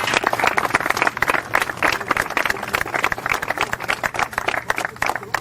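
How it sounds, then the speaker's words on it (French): Steady applause from an audience at an Ascométal gathering, a dense, continuous patter of many hands clapping throughout, fairly loud and close. "Vous pouvez l'applaudir"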